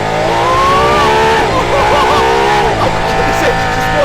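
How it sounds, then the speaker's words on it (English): A Mercedes-AMG One hypercar's engine revs hard and high, the pitch rising and falling through repeated throttle blips, loud and close from inside the cabin, with a voice briefly exclaiming over it. "This engine just wants to rev."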